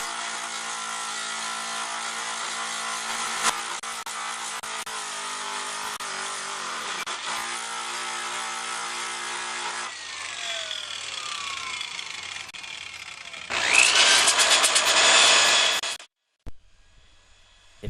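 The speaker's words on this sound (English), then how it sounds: "Now I'll just grind the area smooth." Power grinder smoothing the spots where small brackets were cut off an old 40-year-old bicycle frame, a steady broadband whine for about ten seconds, then a shift in pitch and a louder harsh burst before stopping.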